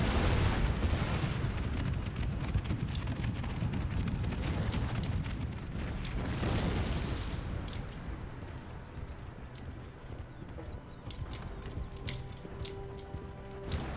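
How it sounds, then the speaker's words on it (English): Artillery fire in Empire: Total War: deep booming cannon blasts and rumbling thuds roll across a battlefield, repeated at intervals amid mechanical clatter and ambient battle noise. "Concentrate my artillery on them, as they're already vulnerable."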